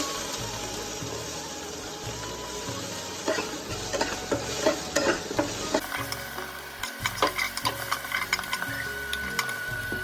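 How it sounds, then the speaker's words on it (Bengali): Beans and tomatoes fry in oil in a wok for a home chow mein, a steady sizzle with ticking stirs and scrapes that grow busier midway, without any talking. "ভেজে নিচ্ছি সাথে টমেটোগুলো দিয়ে দেবো"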